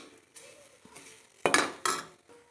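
Carrots and onions, cooked for a vegetable biryani, are stirred in a pan with a spoon, giving soft scrapes and a few sharper metallic clinks and knocks close by, with no talking.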